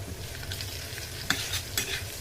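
Garlic and asafoetida sizzle in a hot pan, a continuous close frying hiss broken by a couple of sharp stirring scrapes, with no voices.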